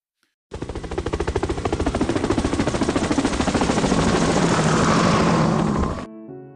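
A helicopter on the Everest Base Camp trek route in Nepal: a steady, loud rotor chop with a rapid rhythmic thumping and engine whine, continuous for several seconds before cutting off abruptly.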